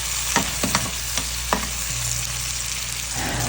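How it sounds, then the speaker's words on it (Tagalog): Tomatoes sauté with garlic and onion in a pan, a steady close sizzle with a few quick stirring scrapes early on before the frying settles into an even hiss. "Tapos, isunod na natin ang kamatis."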